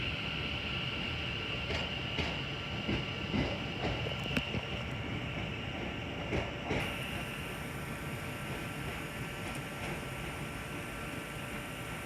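A West Midlands Railway train departs Crewe station, a steady low engine drone and rolling rumble with faint clanks at moderate distance, no talking.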